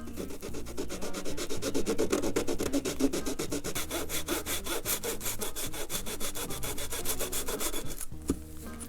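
A razor saw cuts through wood for the wing panels of a vintage Barnstormer 25S RC plane, with steady rapid back-and-forth strokes up close that pause briefly near the end.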